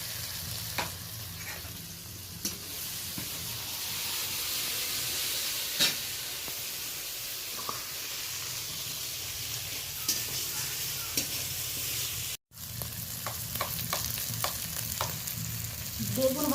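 Ginger paste and spices sizzle steadily in a pan of softened onion and tomato for a fish curry, with scattered scraping clicks from stirring, close and continuous with one brief cut-out.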